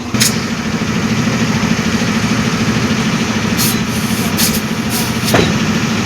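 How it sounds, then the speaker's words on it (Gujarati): A tractor engine idles close by with a steady low rumble that holds at an even level throughout, broken by a few brief clicks and knocks. "હા લીધો ટ્રેક્ટર"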